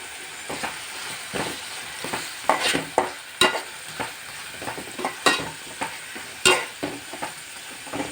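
Masala is fried with onion and tomato in a pan, a soft sizzle under irregular spoon clacks and scrapes from vigorous stirring, close by and quiet, with no speech.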